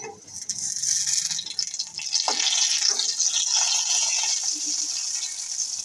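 Water hitting hot cooking oil in a home kitchen gives a steady, loud sizzle and spatter with a few sharper crackles, continuous for the whole stretch with no talk.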